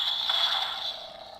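A Kylo Ren Force FX toy lightsaber ignites with a harsh, crackling high-pitched buzz that is loud and close, then fades slightly over about a second and a half.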